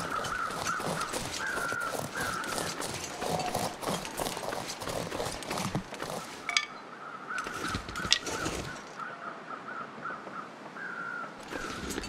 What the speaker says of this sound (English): Oh, that's just more crows.